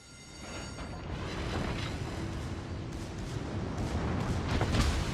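Naval guns fire aboard the warship Nassau in World of Warships: Legends, heard as a steady roar of distant, rumbling booms. Sharp reports break through near the end as the barrage grows slightly louder.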